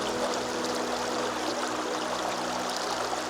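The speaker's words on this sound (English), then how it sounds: "It's nice because the water's flowing down this way." A stream flowing through a nature preserve gives a steady, even wash of running water, close and constant throughout with no voices over it.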